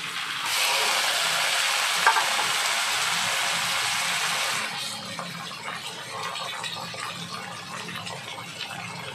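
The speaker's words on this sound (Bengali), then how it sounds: "পেঁয়াজটা ভাজা হয়ে গেছে, মিশিয়ে দেবো ম্যারিনেট করে রাখা চিকেনটা।" Marinated chicken hits fried onions in a hot pan for chicken kosha, bursting into a loud, steady sizzle that eases after a few seconds into a softer, crackling fry.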